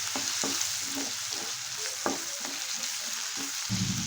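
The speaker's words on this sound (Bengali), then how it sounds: "দিয়ে এবার কিছুক্ষণ ভেজে নিতে হবে যাতে চিংড়ি মাছটা একটু ভাজা ভাজা হয়ে যায়" Shrimp sizzling as it fries in a pan with a little turmeric, a steady close crackle throughout with scattered clicks of stirring.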